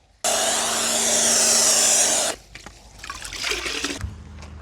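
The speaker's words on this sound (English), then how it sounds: "I let it soak for a bit and then I rinsed off the foam" Water from a pressure washer or hose sprays steadily and loudly across a car to rinse off soaked foam, a continuous hissing rush for about two seconds, then stopping into quieter splashing and dripping.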